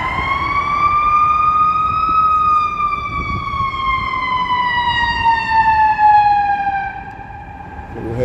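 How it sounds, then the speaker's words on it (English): An ambulance siren wails steadily on a busy Chicago street, its pitch slowly sliding lower as it passes, loud and continuous over the low rumble of city traffic. "ambulance coming through here."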